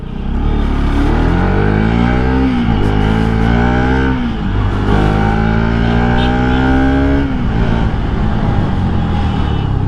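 A Bajaj Pulsar RS200 motorcycle, recently repaired after suspension work and an engine fault that leaked oil and smoke, is ridden on the road, its engine note loud and close, rising and falling through repeated revs and gear changes, with no talk.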